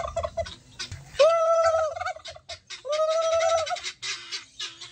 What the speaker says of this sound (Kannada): ಒಂದೇ ಒಂದು ಟರ್ಕಿ ಕೋಳಿ ಇನ್ನು ಮಿಕ್ಕಿದ್ದೆಲ್ಲ ಬಾತುಕೋಳಿ